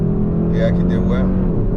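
A 2022 Hyundai Sonata N Line engine pulling to 4,000 RPM, a steady loud drone heard from inside the cabin, with voices talking over it.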